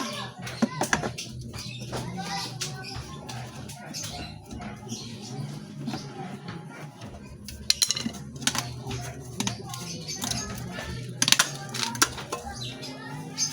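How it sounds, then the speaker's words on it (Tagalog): Screws are worked loose from an old, rusty rice cooker, giving close, scattered metallic clicks, taps and light scrapes at an irregular pace against a quiet background. "Tanggalin muna natin yung screw rito."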